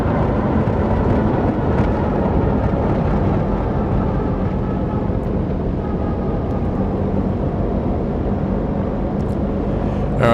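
A Beechcraft Baron twin-engine airplane rolling down the runway after landing as it slows, a steady loud engine and propeller drone with broad rumble, continuous throughout with no voices.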